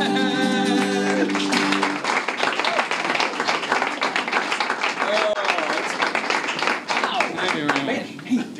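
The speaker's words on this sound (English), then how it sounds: "Hey, they're clapping." Audience clapping breaks out after a folk trio finishes a song, a dense wash of many hands that carries for several seconds while a sustained tone dies away at the start and voices talk faintly beneath.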